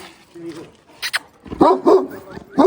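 A large Kangal shepherd dog barks a few times at close range, deep single woofs spaced out, mixed with nearby people talking.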